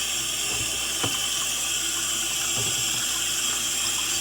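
Steady running water from a tap streams continuously while a Bosch dishwasher trap filter is rinsed clean of crud, with a few faint clicks and knocks of handling over the constant hiss and no voices.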